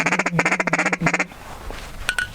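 A Duck Commander cut-down wood duck call blown in a rapid run of loud, close, nasal quacks, two bursts of repeated notes, then a faint trailing squeak.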